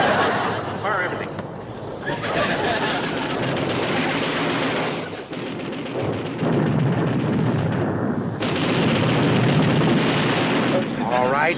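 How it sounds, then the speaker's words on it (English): Sound effects of torpedoes, naval guns and depth charges firing in a TV comedy scene: a dense barrage of booms and blasts, loud and continuous with brief breaks, mixed with voices. "Fire torpedoes 1 and 2! Fire forward guns! Fire depth charges 3 and 4!"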